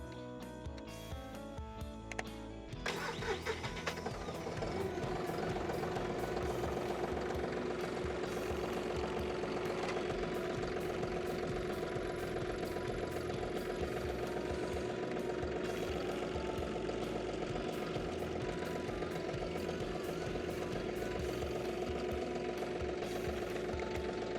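A tractor diesel engine, on a tractor fitted with a John Deere 520M loader, starts after a few seconds, then idles steadily with a loud, rhythmic knocking clatter close by for the rest of the clip.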